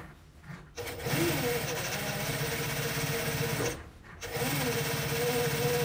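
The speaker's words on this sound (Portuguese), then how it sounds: "a gente vai passar a costura na beiradinha" A sewing machine with a thick size 14 needle stitches along the edge of a rug, joining two layers of fabric in a steady whirring run that briefly stops and restarts.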